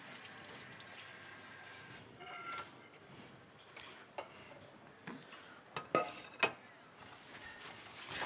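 A chef washes dishes under a running tap, with water hissing steadily while plates and cutlery clink and knock now and then, a few sharper clatters near the end, close by and without speech.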